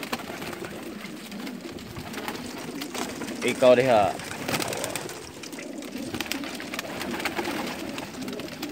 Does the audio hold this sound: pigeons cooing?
yes